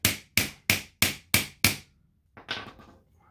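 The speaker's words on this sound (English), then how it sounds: "essentially what I need to do is drive out that axle" Six evenly spaced sharp hammer blows drive out the brushroll axle of a Bissell Powerforce Helix vacuum, close and crisp, followed by a pause and a softer scraping knock.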